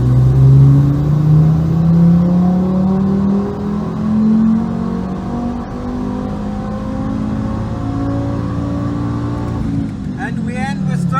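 An Audi TT RS MK1 with a CEPA engine roars through a dyno pull in fourth gear, a loud, steadily rising engine note climbing for about ten seconds before abruptly backing off, with a brief voice near the end.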